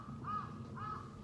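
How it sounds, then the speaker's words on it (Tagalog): Two crow caws sound in succession in Japan in spring, faint and distant, over a low steady background hum. "Ang ingay ng mga karas. Ayan ang mga karas."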